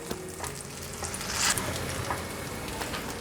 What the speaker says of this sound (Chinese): 蒸汽压出来之后，再继续让它煎，每一颗都膨胀起来了。